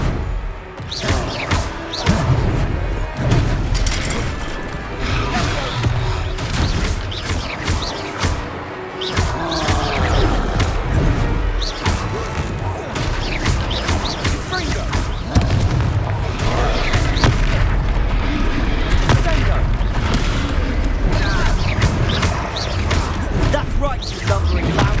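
Confringo fire spell blasts in the Hogwarts Legacy video game, a dense run of repeated booms and thuds amid combat clatter, loud and close, with characters shouting in between.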